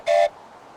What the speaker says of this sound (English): I have a train whistle.